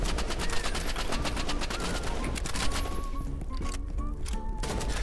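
Rapid gunfire bursts from the Roblox Rivals video game pile up in dense, loud overlapping volleys throughout, with game effects layered underneath and no talking.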